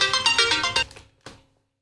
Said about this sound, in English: That's the phone call probably telling me